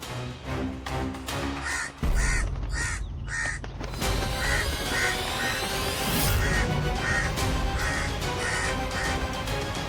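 A crow caws repeatedly in short, evenly spaced calls, loud and close, over a continuous background bed of other sound.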